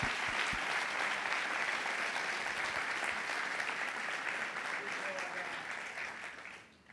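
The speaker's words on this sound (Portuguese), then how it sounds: "Vamos aplaudir a Deus por isso tudo." A church congregation applauds in steady, dense clapping that fills the room, with a voice talking over it, fading out toward the end.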